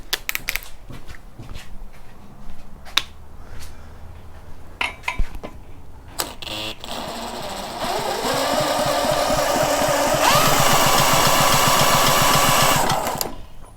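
A pressure washer engine is spun over, with light metallic clinks and clatter at first, then a steady mechanical whirring that runs for about five seconds and rises in pitch partway through before cutting off.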